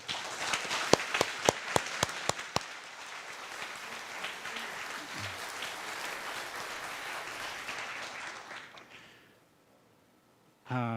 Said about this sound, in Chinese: 咱即时是毋是用掌声来甲因做一个鼓励